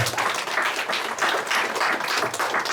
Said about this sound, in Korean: 자, 박수 한번 치세요.